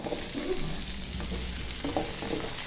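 Carrots tossed into a pan of sizzling chorizo and onion for a mixed-vegetable dish: a continuous near sizzle with spoon-stirring scrapes throughout, no voices.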